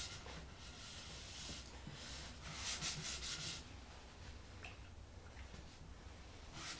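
A cloth rubs sealer back and forth into a wooden banjo hoop, a soft, steady scrubbing hiss that swells briefly in the middle.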